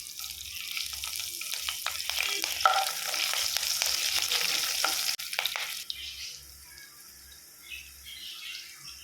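Green chillies frying in hot oil with mustard and cumin seeds, stirred in a pan: a steady close sizzle with scraping stir strokes, quieting partway through to a softer simmer.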